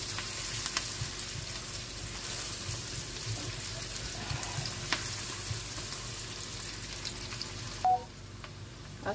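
Crab stir-frying in a wok for a sweet and sour dish, a continuous hissing sizzle with soft irregular stirring scrapes and a brief clink near the end, steady and close, no speech.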